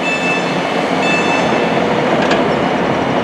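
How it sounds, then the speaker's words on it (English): A four-coach Aberystwyth passenger train, two sets coupled together, pulls out of Birmingham International station with a steady rumble and rail noise. Faint hiss and a brief squeal ride on top, and no voices are heard. "Off goes the Aberystwyth train. That's formed of four coaches,"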